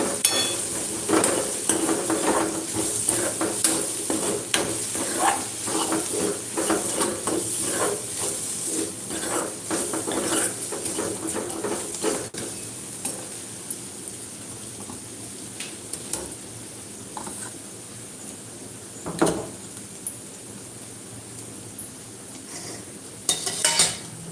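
Frying sukat (dried shrimp) mixture in an uncovered pan, a steady hiss and sizzle with brisk scraping stirs early on, then quieter sizzling with occasional single scrapes of the spatula.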